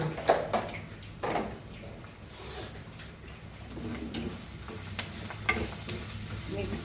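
Cauliflower with homemade sambar masala powder is stirred and fried in a pan, giving a soft, steady sizzle broken by irregular scraping and clinking strokes of the spoon, close and fairly quiet.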